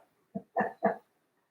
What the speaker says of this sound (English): make sure the dogs are not barking during Shavasana